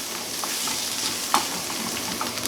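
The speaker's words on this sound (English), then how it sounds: "I just want to really sweat the garlic off" Garlic and spinach sautéing in a hot pan, a steady close sizzle and hiss with occasional soft pops and a utensil stirring, continuous and even with no voices.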